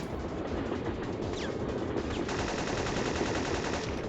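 Gunfire aimed for a headshot on Mara in the video game Syphon Filter, a dense, continuous crackling shot texture that stays loud and close for the whole stretch, with no voices.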